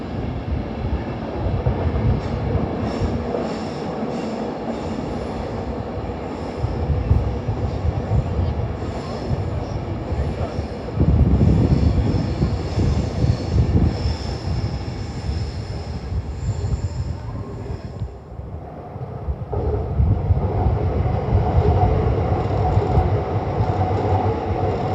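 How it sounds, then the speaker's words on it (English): An Avanti West Coast train from Euston to Glasgow Central passes at Primrose Hill, with a loud continuous rumble and clatter, wheel squeal, a brief dip in the middle, then a renewed roar. "Avanti West Coast service to Glasgow Central"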